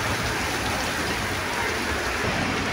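Steady rain pours down around a bus driving through Lago Agrio, Ecuador, a dense continuous hiss of drops drumming on the roof and windows, close and unbroken.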